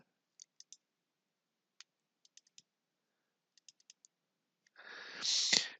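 Sparse, faint clicks of a computer mouse come in small groups with pauses between them, at close range. A louder burst of noise follows near the end. No one speaks.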